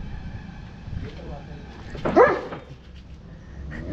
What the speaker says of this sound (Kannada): ಇಲ್ಲಿ ಕರೆ ಡಬರ್ ಮೇಲೆ ನಾಯಿ ಐತ್ರಿ